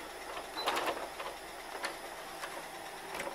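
A sewing machine stitches an invisible zipper into a garment and backstitches at the end, giving quiet short whirring bursts of stitching separated by brief pauses.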